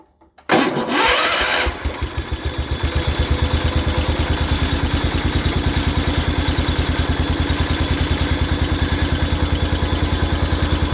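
A small engine on a 1973 John Deere 140 H3 lawn tractor sputters and catches, then settles into a steady, loud, rhythmic chugging idle close by.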